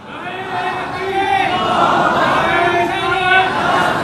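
A large crowd chants religious slogans in unison at a devotional gathering, a loud, sustained roar of many voices rising and falling together close by throughout.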